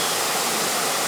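Nachi waterfall at Kumano Nachi Taisha splashes and roars as a steady, dense wash of falling water, loud and continuous with no voices over it.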